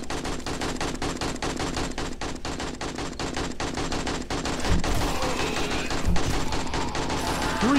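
Automatic gunfire in 7 Days to Die, a steady rapid stream of shots with a regular rhythm, loud and continuous, growing heavier and mixed with other impacts in the final seconds.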